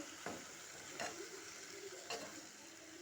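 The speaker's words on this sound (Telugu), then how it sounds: "టమాటా వేసుకొని ఇలా మంచిగా కలుపుకోవాలన్నమాట" Tomatoes being stirred into frying capsicum curry in a pan, a steady sizzle punctuated by three sharp scrapes of the spoon.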